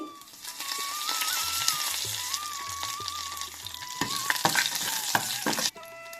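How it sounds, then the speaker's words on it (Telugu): Dried red chili pieces, mustard seeds and curry leaves sizzle and crackle in hot oil as a tempering, with a steady loud frying hiss and a few sharp pops near the end. "పోపు ఎగిపోయిందండి."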